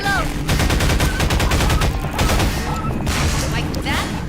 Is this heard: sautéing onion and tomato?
no